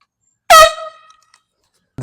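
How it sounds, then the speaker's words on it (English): A single loud air horn blast goes off in a park as a prank, a strident harmonic honk lasting about half a second that fades quickly, followed by silence and a brief rustle at the end. "My air horn spoke it all"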